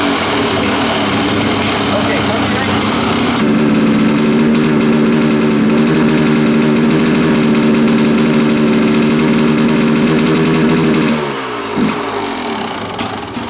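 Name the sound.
Kawasaki dirt bike engine started and idling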